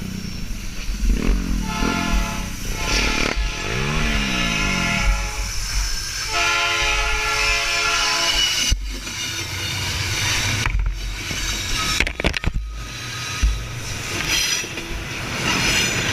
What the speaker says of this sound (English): the train shows up